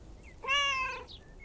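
A single cat meows once, a clear, tonal, drawn-out call lasting about half a second, close and fairly loud against a quiet background, with no talking.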